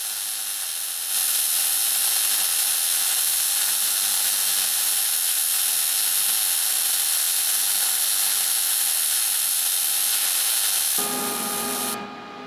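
A MIG welder lays a vertical-up 3G bead on bevelled steel plate, giving a continuous, fairly loud hissing crackle that stays steady for about ten seconds before the arc cuts out and a quieter hum remains.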